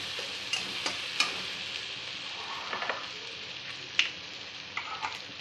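Spice paste with turmeric and butter sautéing in a pan for jackfruit curry, a soft steady sizzle with intermittent clicks and scrapes of a spoon stirring against the pot, no voices.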